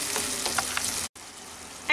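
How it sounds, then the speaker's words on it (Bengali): Mixed vegetables and a little water sizzle in a pan with soy sauce while being stirred, giving a steady close hiss with soft scraping strokes. There is a brief dropout near the middle, and no one talks. "সামান্য একটুখানি জল দিলাম, ভালো করে এটাকে মিশিয়ে নিচ্ছি সবজির সাথে।"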